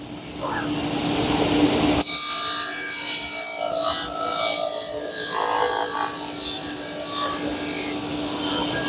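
A table circular saw starts abruptly and runs with a steady, piercing high whine as a piece of wood is fed against the fence, the tone briefly dipping and recovering near the end.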